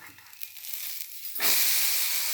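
A pumpkin adai, a lentil-based pancake, sizzles in plenty of oil after being flipped, starting as a soft crackle and then bursting into a louder, steady hiss partway through.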